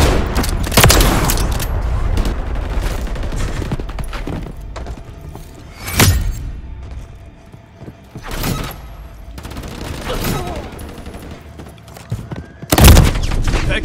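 Gunfire in the video game Call of Duty: Modern Warfare III arrives as scattered loud shots and heavier booms, some near and some farther off, over a continuous battlefield background.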